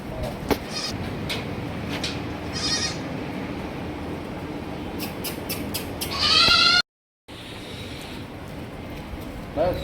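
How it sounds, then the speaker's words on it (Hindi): Barbari goats bleating on a goat farm near Mathura, a busy chorus of animal calls over steady background noise, with someone talking through it and a brief sharp scrape near the end. "देखिए माशाल्लाह से नायाब बर्बरी बकरियाँ"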